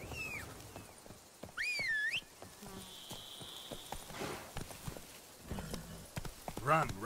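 Horse hooves clip-clop at a gallop in The Witcher 3 video game, a quiet rhythmic thudding broken by whistles and a brief whinny-like tone, with someone speaking over parts of it.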